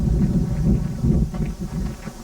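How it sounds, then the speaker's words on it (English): Heavy, steady wind buffeting a microphone on a cold day, with low rumbling gusts that rise and fall throughout. "It's a cold and windy day today, much worse than it was yesterday."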